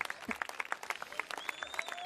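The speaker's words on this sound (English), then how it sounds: "you didn't even stop for the applause" A small audience claps at a fairly even, quick pace, the individual hand claps distinct and close, with faint tonal sounds drifting underneath.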